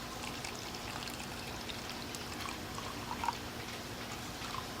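Liquid aquarium bacteria starter, about four ounces, poured onto DIY planted-aquarium substrate, giving a steady soft trickle and splash that runs evenly throughout with no talking.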